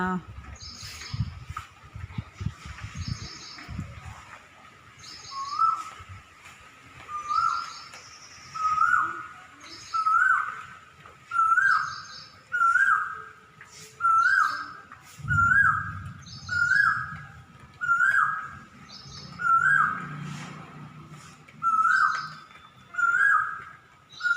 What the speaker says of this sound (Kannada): ಇಲ್ಲಿ ಕೋಗಿಲೆ ಕೂಗ್ತಾ ಇತ್ತು